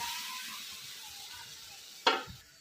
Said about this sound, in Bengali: মশলাটা কষানো হয়ে গেছে, এখন আমি ঝোলের জল দিয়ে দিই।